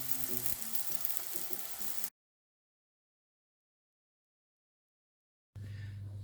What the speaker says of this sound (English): dollop them in and fry them off for 2 or 3 minutes